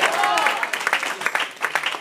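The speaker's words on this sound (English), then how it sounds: "Clap your hands and tell him thank you." A church congregation clapping hands during a sermon, rapid overlapping claps with a voice or two mixed in, steady and fairly close.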